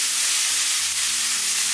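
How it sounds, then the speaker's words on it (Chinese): Steamed green beans with shredded pork and red pepper strips are stir-fried in a wok, giving a dense, loud, steady sizzle throughout with faint low background hum. "豆角是蒸熟了的，我们只需要给它翻炒个一分钟左右就可以"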